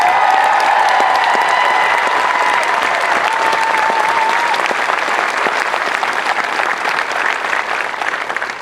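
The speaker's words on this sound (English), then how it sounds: "give them a round of applause" A large crowd at an Air Force Basic Military Training parade applauds steadily and loudly, sustained clapping that carries on for several seconds before slightly tapering.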